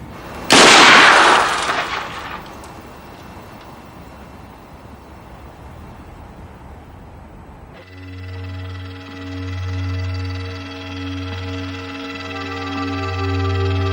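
A bomb squad disruptor fires at a suspected device with a single loud, sharp blast that decays over about two seconds, followed by quieter ambience and then a steady mechanical hum, likely a remote-controlled robot.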